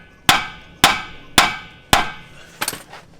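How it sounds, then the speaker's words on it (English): A hammer strikes a steering knuckle to free a tie rod during a Jeep suspension job. Four loud, evenly spaced metallic whacks ring out, followed by a quick rattling clatter as the part drops loose. "you just give it a couple good whacks and it'll drop out"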